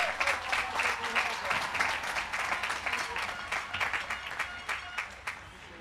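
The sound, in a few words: graduates applauding themselves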